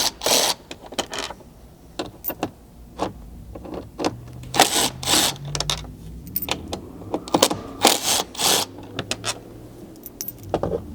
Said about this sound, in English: So you'll go ahead and remove all 4 of these screws.